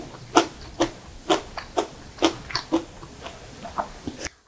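Close, crisp crunching as someone bites and chews freshly made, lightly salted godeulppaegi (bitter lettuce) kimchi, about ten sharp bites in a steady rhythm with no talking.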